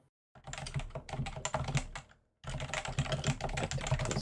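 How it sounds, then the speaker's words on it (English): Typing on a computer keyboard at a home podcast setup: rapid, dense clacking of keys close up, a brief pause, then another fast burst of keystrokes, with no talking. "Sorry for the keyboard ASMR."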